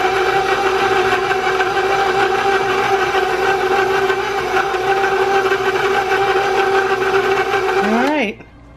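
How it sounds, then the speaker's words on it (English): An electric kitchen mixer runs at a steady, loud whirring hum for about eight seconds before switching off and winding down, while someone talks over it. "I love this mixer. It makes cooking, or baking I should say,"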